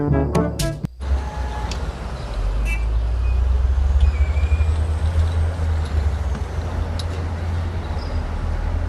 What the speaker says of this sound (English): Forklift.